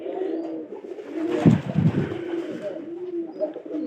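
Soft, low cooing of Nangra pigeons repeats close by, a murmuring call over faint background rustle.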